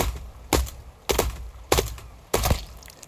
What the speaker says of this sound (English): Well, then we'll just do the axe.